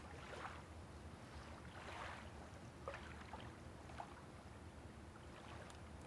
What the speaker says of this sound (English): there's just a gentle sound of waves, you know, rippling around the floats of the plane and on the surface of the water